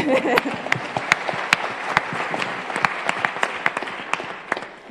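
An audience applauds, a steady patter of many hands clapping with some sharper individual claps standing out, fading slightly toward the end.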